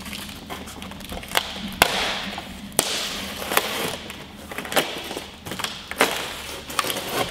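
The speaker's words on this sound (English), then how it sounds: "Either use some scissors or a Stanley knife, just to carefully pierce the film around the edge." A sharp blade scrapes and punctures plastic film around the edge of an electric unicycle's packaging, giving crackling, crinkly noises with a few louder snaps and taps, close up, with no speech.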